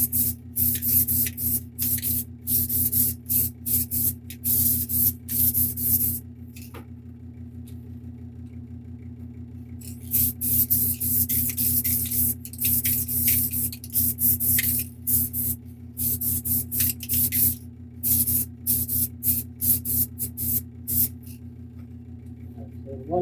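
Airbrush or spray bursts lay a second coat of paint on a heavy model kit, coming in repeated long hisses separated by short pauses over a constant low compressor hum.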